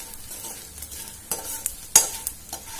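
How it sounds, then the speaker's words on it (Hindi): Edible gum (gond) frying in ghee in a pan gives a low, steady sizzle with a few clear spatula scrapes and clinks, the loudest one near the middle. "गोंद भी देखो कितनी बढ़िया तरीके से अब फूल चुका है इसी तरीके से हमें इसे फ्राई करना है"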